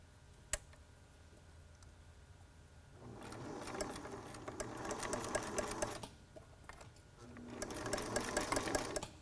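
A sewing machine stitches elastic onto a T-shirt face mask in two bursts of rapid mechanical whirring, close and clear, separated by a short quiet pause with a sharp click near the start.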